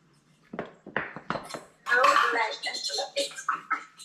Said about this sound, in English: We're beating with a fork.